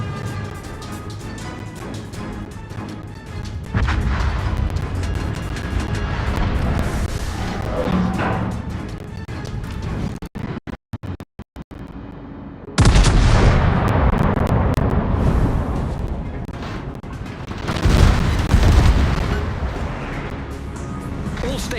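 Heavy battleship guns fire aboard the Duke of York in World of Warships, deep rolling booms swelling in long bursts with a sharp break midway, loud and close over a constant low rumble.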